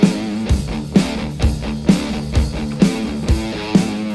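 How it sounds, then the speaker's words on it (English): Electric guitar plays a proto-metal intro riff on the left channel, a loud, steady repeating figure with palm-muted chugs and regular accented hits about every half second, with no voices. "On the left, we have the dumb guitarist playing this riff."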